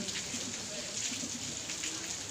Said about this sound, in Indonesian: Semoga hujan yang turun ini membuatkan berkah kepada kita semua.